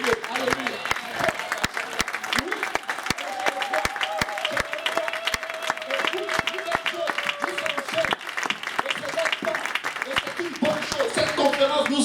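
Congregation applauding at a church conference, dense continuous clapping with sharp individual claps standing out, while a voice speaks over it and a sustained musical tone runs underneath.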